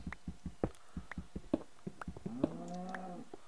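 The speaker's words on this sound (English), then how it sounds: "Hello, cow." A cow moos in a video game, one drawn-out low call near the end after a run of soft, regular thumping footsteps, fairly faint overall.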